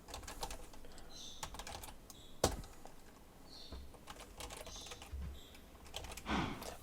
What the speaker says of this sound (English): I need to type in, or I need to copy the link pretty much